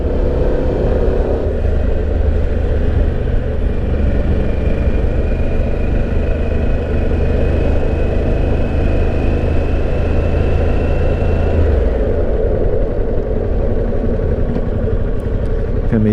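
A Harley-Davidson Pan America motorcycle rides along at a steady pace, its engine producing a continuous loud rumble mixed with wind noise, and the pitch eases slightly near the end.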